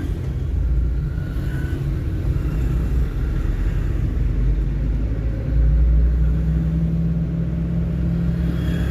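A car engine drones steadily after a shift into second gear on a public road, a loud, continuous low rumble with a slight rise in pitch toward the end and no voices.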